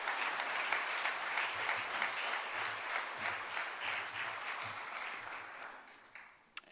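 A workshop audience applauds a school principal walking to the podium, a dense, even wash of clapping that holds steady then fades, ending with one sharp sound.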